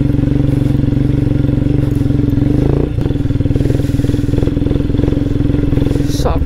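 A motorcycle rides an off-road trail near Dharmapuri, its engine thrumming loudly and steadily throughout with clattering over rough ground and a short throttle change midway.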